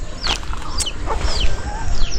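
Chickens cluck and call near an off-grid cabin, several short squawks and clucks over a low steady rumble of background noise, with no talking.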